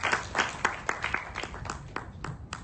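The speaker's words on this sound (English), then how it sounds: "Give a big round of applause, both for the teacher and for this department." An audience at a medical education conference on tropical fever claps in a soft, scattered patter for a few seconds.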